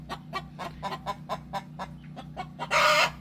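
A backyard coop of chickens, including a Brahma Americana cross hen, clucks in a steady run of short pulses, close by, before a burst of louder, rougher squawking near the end.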